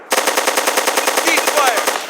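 Sustained automatic machine gun fire in the war game ARMA: Armed Assault, a loud, rapid, evenly spaced burst of shots lasting about two seconds, close and without voices.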